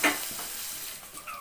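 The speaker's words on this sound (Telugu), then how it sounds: "మెదిపి పెట్టుకున్న పప్పులో పోపు వేసుకుందామండి" Hot oil tempering poured into mashed dal for cucumber-tomato dal gives a sharp burst of sizzling at the start, then settles into a softer steady hiss, close and without talk.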